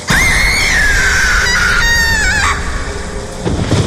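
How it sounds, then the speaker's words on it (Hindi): A woman lets out a long, loud, high-pitched scream that wavers and trails off, followed by rougher background noise. "दरवाजा खुलते ही एक औरत की फिर चीखने की आवाज सुनाई देती है।"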